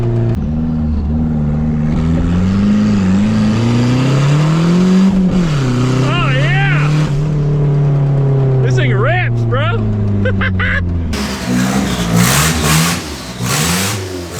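A turbocharged Nissan 240SX drift car, its manifold leaking through a half-inch hole where a bolt is missing, revs up and down in loud, close rising and falling sweeps as it builds boost, with a rougher roar toward the end.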